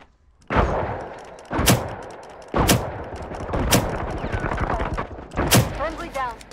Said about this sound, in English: how many times I gotta shoot that guy through the window?